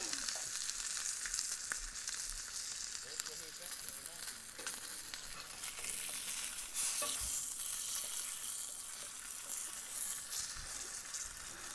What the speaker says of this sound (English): I'm searing all sides now